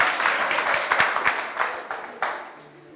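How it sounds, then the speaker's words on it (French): Brief applause from a seated audience at a talk, a few seconds of scattered clapping with sharp individual claps that thin out toward the end, fairly close. "Très bien, on peut les applaudir ici, de ce côté-là."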